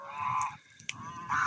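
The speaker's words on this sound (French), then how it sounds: "j'ai les oies et ils s'inquiètent" Loud nasal honks from geese, a burst at the start and another near the end, with a brief sharp knock between them.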